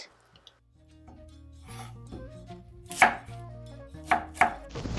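A knife chops spring onion and shallot on a cutting board for a Thai glass noodle salad, with soft scraping at first and then several sharp, close knocks spaced irregularly.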